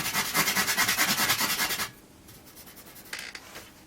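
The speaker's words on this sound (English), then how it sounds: "I'm going to end up spending a long time scrubbing away at all this corrosion on here." A brush scrubs corrosion off an Olivetti M250 computer motherboard in fast, rhythmic back-and-forth strokes, loud and close for about two seconds, then fainter, sparser scratching follows.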